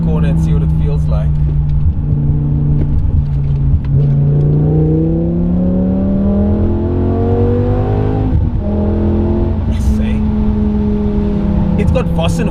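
BMW 850i fitted with a V10 engine, driving through a corner, with a loud engine note that rises and falls as the revs change, plus tyre and road noise, under someone talking.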